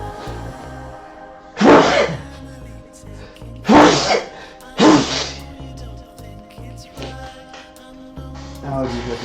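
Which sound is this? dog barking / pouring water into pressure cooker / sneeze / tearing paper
sneeze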